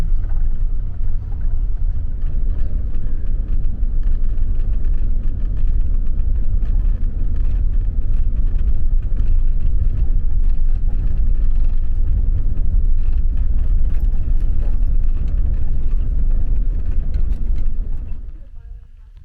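A vehicle drives a rough, technical off-road track near Behind the Reef Road, a steady close engine rumble with crunching and bumping throughout, fading out at the end; a voice may be faintly present beneath the noise.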